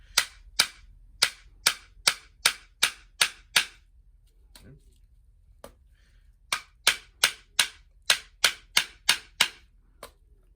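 A tennis racket is struck hard again and again, a series of sharp, loud cracking impacts in quick rhythmic bursts with a short pause midway, close and alone.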